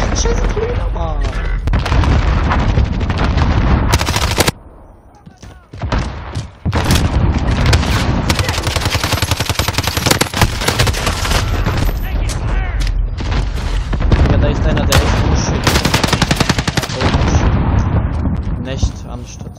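Gunfire and grenade explosions in a Call of Duty Warzone battle, with loud rapid bursts, heavy booms and continuous combat noise under excited shouting voices.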